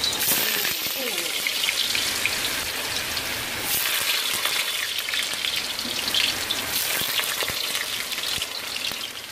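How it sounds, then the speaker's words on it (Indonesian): Potatoes dropped into hot oil fry with a continuous crackling sizzle, close and busy, with small pops scattered through it. "itu minyaknya sudah panas, aku masukkan kentangnya dulu"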